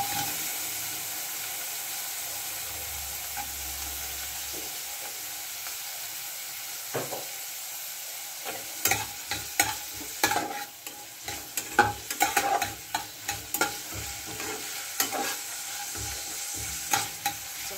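Grated coconut frying in a spoonful of ghee sizzles softly at first, then stirring grows busier, with dense scraping and clicking strokes against the pan, close up and without talk.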